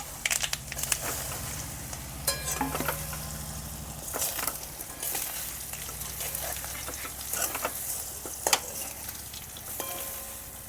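Cumin and sesame seeds sizzle and crackle steadily in hot oil as a tempering is made for dhokla, with a few sharp pops and the scrape of stirring.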